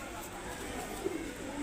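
Pigeon cooing low and steady while the bird is handled, a soft continuous murmur with a slightly louder coo near the end, under faint background noise.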